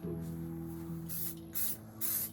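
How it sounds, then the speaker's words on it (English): An aerosol can sprays clear coat onto bargain shelves in a few short hissing bursts, the last two louder and closer, over a faint steady background hum. "So I think I'm just going to spray some clear coat on the top"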